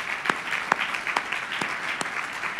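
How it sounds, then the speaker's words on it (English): Steady crowd applause fills an evening university gala honoring Legacy Award recipients, a dense continuous clatter of many hands with a few sharper claps standing out, no voices over it. "so you should give yourselves a round of applause."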